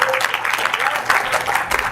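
Crowd applause at a Las Vegas pre-launch event, a steady dense wash of clapping for a guest held at a constant level for the whole two seconds, with a voice briefly audible through it.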